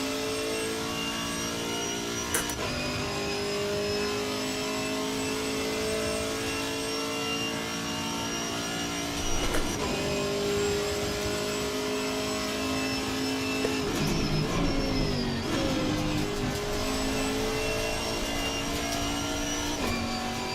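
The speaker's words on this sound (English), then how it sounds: "I just love the transmission whine in this car, though. Those gears just sound amazing." An American muscle car engine drones steadily for a long stretch, with a high, sustained transmission gear whine riding over the engine note and slight rises in intensity.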